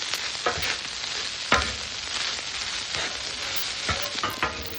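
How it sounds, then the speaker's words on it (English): Eggs and rice fry side by side in butter on a hibachi griddle, a continuous crackling sizzle broken by sharp scraping clicks of a spatula stirring and flattening the food. "while we got our eggs going on one side, we're gonna go ahead and lay our rice down on the other"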